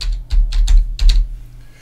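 Keys clatter on a computer keyboard as a new folder name is typed, a few short close bursts of clicking over a low steady hum.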